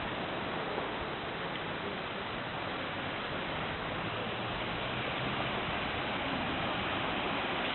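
A steady, even roar of sea surf on a seaside promenade walk, unbroken and fairly loud throughout, with no distinct individual waves standing out.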